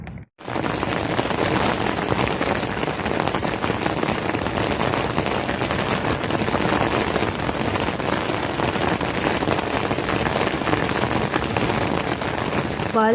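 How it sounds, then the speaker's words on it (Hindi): Steady heavy rain pouring down during a sudden shift to rainy weather, a dense continuous hiss of drops on surfaces that starts abruptly and stays loud and close throughout, with no talking. "तकरीबन बारिश वाला मौसम, ऐसा लग रहा है कि अभी से बारिश आएगी और आ भी गई है।"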